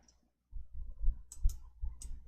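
A few sharp, close computer mouse clicks come during spreadsheet work in Excel, spaced irregularly over a faint room hush.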